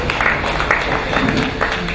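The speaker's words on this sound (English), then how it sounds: "We clap for the talk" A church congregation claps together at a funeral send-off service, a steady, dense patter of many hands that carries on evenly with a faint murmur of voices beneath.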